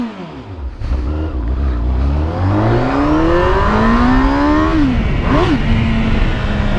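Honda Hornet motorcycle engine revving up close, its pitch climbing steadily through the gears with a sharp blip near the end before settling back to a steady idle, loud and alone.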